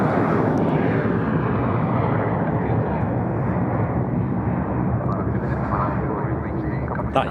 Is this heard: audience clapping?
no